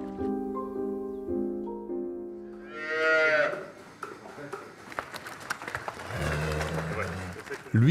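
Cows on a Normandy farm moo loudly and close, one long low call rising into a strained bellow, followed by a fainter moo, with voices talking and light background noise.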